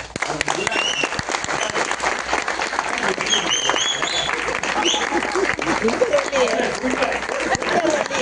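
A festival audience applauds its organisers and volunteers in a hall, with dense, sustained clapping throughout and voices mixed in underneath.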